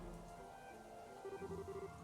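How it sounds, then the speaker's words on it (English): Steady rain falls in the video game Trails in the Sky the 3rd, a soft continuous patter under a music bed, with a short run of pulsing tones near the end. "Rain?"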